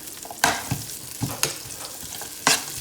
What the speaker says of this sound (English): we're gonna saute that until all my onions starts opening up